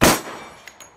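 A single sharp shot from a SIG Sauer P226 MK25 pistol rings out loud and close, then decays quickly with a short echo.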